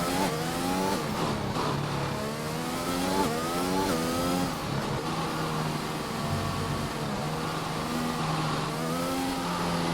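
Race car engine in an F1 video game at the Abu Dhabi circuit, revving loudly and continuously through rising and falling gear shifts, with a sustained whine and occasional tyre squeal, no voices.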